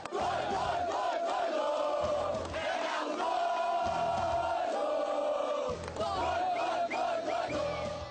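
Atlético fans at Estádio Independência roar and chant together in a loud, continuous crowd din, with massed voices swelling in rhythmic waves throughout.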